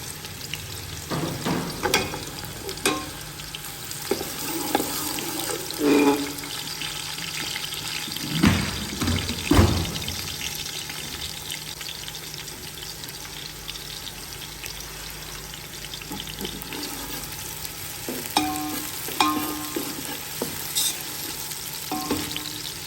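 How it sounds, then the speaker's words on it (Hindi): Two onions frying and browning in oil for chicken haleem, a steady sizzle broken by occasional stirring scrapes and clatters, with no one talking. "अब ये 2 प्याज हम ब्राउन करेंगे।"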